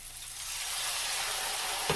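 Tomatoes and a dash of sugar hit a hot frying pan and sizzle steadily and loudly, a continuous frying hiss with a brief clatter near the end.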